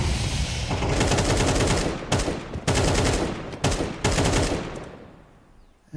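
Rapid gunfire in Counter-Strike 2, including AWP sniper shots, with bursts of automatic shots broken by a few sharp single cracks at close range.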